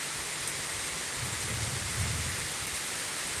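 Steady heavy rain with low thunder rumbling through a storm at Thurmond, West Virginia, a dense continuous wash with a soft roll of thunder midway.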